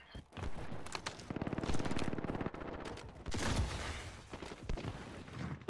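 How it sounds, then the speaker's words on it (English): Rapid bursts of gunfire from a shooter video game crack close and loud, with one long stuttering volley in the middle and scattered shots after it, alone with no talk. "this man's chasing me with a shotgun"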